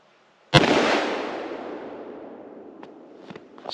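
A single loud .357 Magnum gunshot fired with Remington 125 grain jacketed soft point ammunition cracks sharply and close, then rolls off in a long echoing decay outdoors, followed by a few faint clicks.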